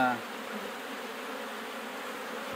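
Honey bees at an open hive with frames of comb, nectar, pollen and brood make a steady, close, droning buzz that holds evenly throughout after a brief opening tone.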